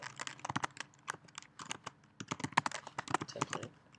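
Quick, irregular clicking keystrokes on a computer keyboard as a short name is typed, close and fairly quiet, with brief pauses between small bursts of taps.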